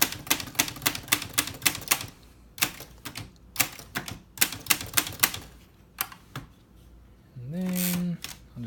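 Keys clack and strike on a rare 1948 Olivetti MP1 typewriter as symbols are typed, a fairly quick uneven run of sharp close taps with short pauses, followed near the end by a brief mechanical whirring slide.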